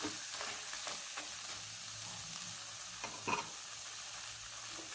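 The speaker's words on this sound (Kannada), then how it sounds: "ಈಗ ಇದೆಲ್ಲ ಫ್ರೈ ಆಗ್ತಾ ಬಂತು" Masala with chillies fries quietly in a pan, giving a faint, steady sizzle broken by a few soft stirring scrapes and clinks. No one speaks.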